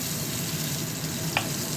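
Green banana koftas frying in oil in a pan give a steady, even sizzle at close range, with one brief tick near the end.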